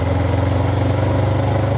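A Honda 400X motorcycle engine pulls steadily from around 40 km/h in a high gear, a loud, close, continuous throbbing drone with no voices.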